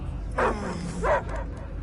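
Two deep, muffled dog barks spaced about half a second apart ring out in the Marvel's Guardians of the Galaxy video game, set over a steady low game ambience.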